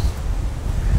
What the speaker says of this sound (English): Wind is so strong, it blows everything over.